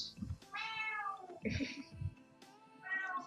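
A kitten gives several close, high, drawn-out meows in quick succession, with soft thumps and other game sounds in between.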